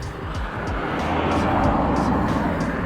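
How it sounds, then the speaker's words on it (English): A car passing close by on a road, a broad steady roar that swells slightly toward the middle and stays loud to the end, with no talk over it. "that car's coming"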